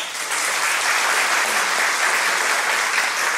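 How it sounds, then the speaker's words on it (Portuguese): Dense, steady applause from an audience at a lecture event, a continuous wash of many hands clapping close and loud with no talk over it. "para quem eu peço uma salva de palmas"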